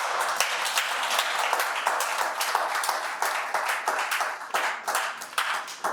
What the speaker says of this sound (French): S'il vous plaît, si vous applaudissez.